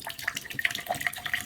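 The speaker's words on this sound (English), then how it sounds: "I'm going to pour both of these into their respective cups." Eco-solvent ink poured into a cup beside a labeled acetone cup, a thin continuous liquid trickle with small splashy drips, close and fairly quiet with no talking.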